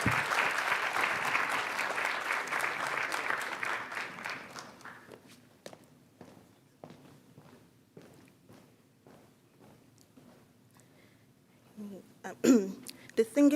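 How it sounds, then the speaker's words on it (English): Audience applause at a Martin Luther King Jr. Day celebration, a full round of clapping that dies away after about five seconds, leaving scattered footsteps and faint room noise before a voice begins. "let's give Aisha a round of applause and thank her"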